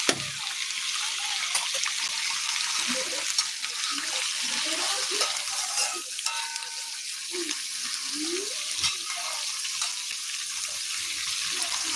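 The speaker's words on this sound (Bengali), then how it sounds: "পটলটা একটু ভালো করে ভাজা হোক" Pointed gourd (potol) sizzles in a pan with green chilli and nigella seeds, a soft, steady frying hiss broken by faint scraping and clatter from stirring.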